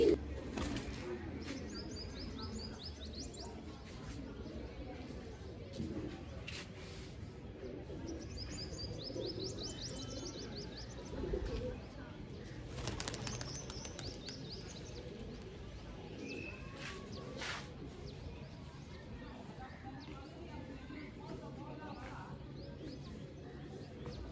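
Pigeons released during kabootarbaji give faint, scattered chirps in short bursts amid quiet outdoor ambience, with occasional soft thumps and bumps.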